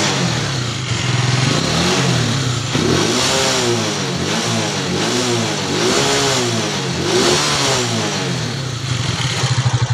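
An engine with freshly cleaned carburetors revved repeatedly up and down, loud and close, with rising and falling pitch sweeps over a rough running note.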